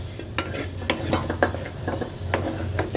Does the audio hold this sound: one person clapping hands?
no